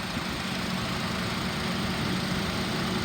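A 2005 Acura TSX with a 2.4 liter four-cylinder engine and 112,000 miles, rebuilt title, idling steadily with a constant low hum and faint tonal drone, no voices over it.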